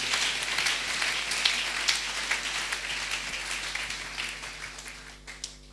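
A church congregation applauds during a French and Lingala worship service, a dense, steady wash of clapping that fades slightly toward the end.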